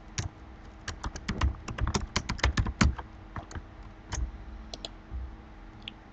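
Keystrokes on a computer keyboard as text is typed, a quick burst of irregular clicks that thins out into scattered single taps, close and clear with no voices.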